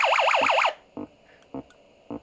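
Space Invaders arcade machine march tone made by a 555 timer: a brief warbling siren-like sweep cuts off, then three low separated electronic thumps follow at an even slow pace, close and alone.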